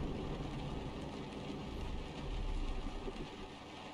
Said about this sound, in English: You can hear that rain bouncing off the cab.